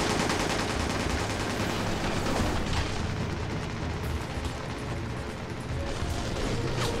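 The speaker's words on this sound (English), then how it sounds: "operating a minigun while getting chased by Las Plagas on bikes" A minigun fires continuously in Resident Evil 5 during a chase by enemies on bikes, a dense, loud, rattling stream of rapid shots with mechanical whirring and no speech over it.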